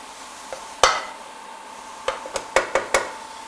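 Leek mixture tipped into a pan and stirred over medium heat, a sharp clatter followed by a quick series of utensil knocks and scrapes against the pan over a faint sizzle, close and without talking.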